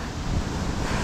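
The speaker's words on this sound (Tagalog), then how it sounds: "So malakas pa rin yung hangin" Strong wind blows outdoors in Finland, a loud, steady broadband rush buffeting the microphone with no voices heard.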